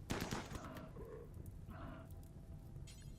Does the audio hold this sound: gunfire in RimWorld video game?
yes